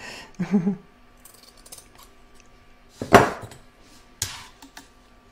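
Several crisp metallic snips, spaced a second or so apart, of scissors trimming patchwork fabric, with quiet handling noises between cuts.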